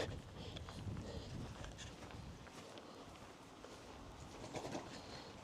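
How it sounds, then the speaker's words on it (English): A wood pigeon coos somewhere near a walking path at Ventnor, its soft, low calls half buried in steady outdoor wind and rustle, with footsteps faintly crunching underneath throughout. "That wood pigeon almost landed on my head"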